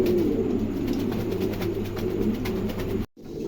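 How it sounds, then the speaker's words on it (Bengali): A pair of pigeons cooing close by at a bird market, soft repeated low coos over a constant room hum, cut off by a brief gap near the end. "চমৎকার এক জোড়া কবুতর"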